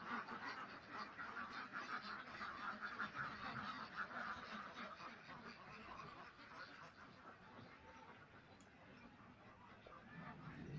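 Parent ducks kept in shallow water at a duck breeding farm in Narayanganj, with Indian Runners among them, make a dense, continuous chorus of quacking and chatter that stays fairly close and steady throughout.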